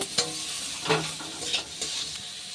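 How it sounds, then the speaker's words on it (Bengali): Chopped tomato being stirred into onion masala for egg do pyaza, giving a quiet sizzle with a few sharp scrapes and taps of the spatula against the pan, close up, no talking. "এবার এই টমেটো দিয়েও ভালোভাবে আর একটু সময় নেড়ে নেব।"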